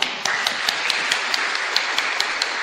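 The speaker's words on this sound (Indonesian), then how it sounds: "Tepuk tangan untuk GWKP." A church congregation at a worship service claps together, a steady run of sharp, evenly spaced hand claps in unison filling a small indoor room, moderately loud and close.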